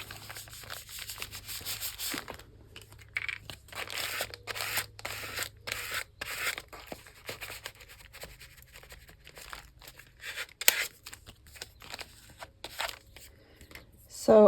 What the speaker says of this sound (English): I've just been tearing it out